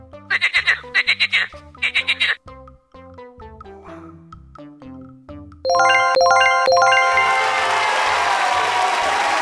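A frog croaks in a quick burst of rhythmic pulses, followed by tinkling chime and ding tones and a bright jingling flourish from a toddlers' vocabulary lesson, loud and clear with no talking.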